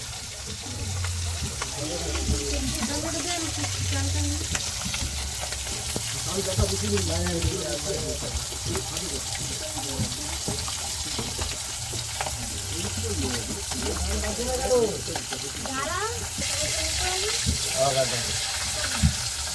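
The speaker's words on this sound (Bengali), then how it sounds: "এই মাছগুলো এগুলো ভাজা হচ্ছে" Fish frying in oil at a riverside camp in the Sundarbans, a steady soft sizzle mixed with splashing water and clatter, running under nearly continuous nearby talk.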